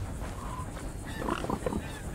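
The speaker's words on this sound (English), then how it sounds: "The pigs." Pigs in the Red Dead Redemption 2 game world grunt and squeal in a short cluster of rough oinks, moderately close over a low ambient background.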